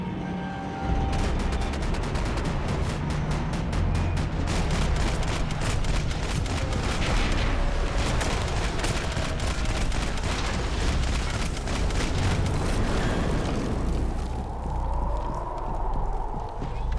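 Sustained rapid gunfire from a Max Payne 3 firefight, loud and continuous for most of the stretch, thinning toward the end as a tonal sweep rises.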